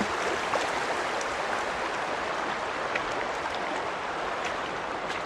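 A small desert creek flows steadily nearby, a constant broadband rushing and trickling of water with no pauses and no voices.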